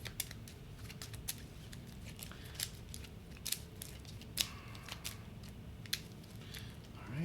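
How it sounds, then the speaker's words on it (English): Cards from an influence deck in the Etherfields board game being shuffled at a table, giving quiet repeated riffling and snapping ticks in scattered bursts over a low steady background, with no talk. "So we're going to shuffle our influence deck."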